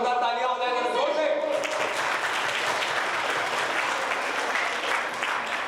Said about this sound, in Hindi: जरा मैडम के सवाल के लिए एक बार जोरदार तालियां हो जाए जरा जोर से